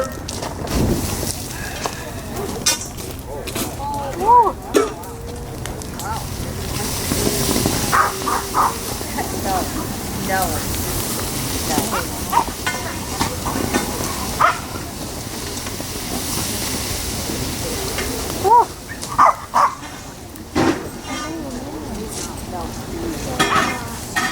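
An outdoor fish boil kettle at a Door County, Wisconsin restaurant boils over, with a continuous bubbling hiss broken by sharp surging bursts near the start and again late on, while voices murmur faintly around it.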